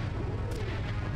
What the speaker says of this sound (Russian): Взрыв на базе?